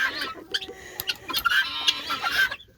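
Guinea fowl call from inside their pen in a quick run of harsh, clucking cries and chatter that rise and fall close by, with no people speaking.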